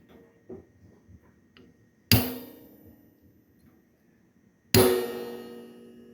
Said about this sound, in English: Just take our ball peen hammer and give this a whack.